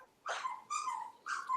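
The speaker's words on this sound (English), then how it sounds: "Does someone have a squeaky toy?" A dog plays with a squeaky toy, producing three high, wheezing squeaks in quick succession, close and fairly clear against a quiet background.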